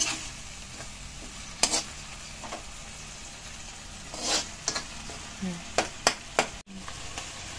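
Alamang shrimp paste fries in a pan with chili added, a quiet sizzle under scattered sharp scrapes and clinks of stirring.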